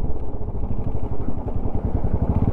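A motorcycle labours offroad over a rocky track on a long ride toward Ladakh, its engine throbbing loudly and unevenly up close, mixed with rattling and jolting clatter, no talk.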